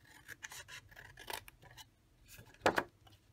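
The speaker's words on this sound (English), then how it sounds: "So in the middle, we're going to slightly notch it out and then cut away the length of it." Scissors snip a notch into a narrow half-inch strip of cardstock, giving a few quiet paper cuts followed by a sharper, louder double snip near the end, with no talking.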